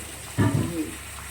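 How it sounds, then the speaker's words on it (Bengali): Water from a bottle splashes briefly onto hands in a home kitchen, a short close pour of about half a second followed by faint trickling and quiet room noise. "একটু জল দিয়ে দাও, হাতে জল দাও।"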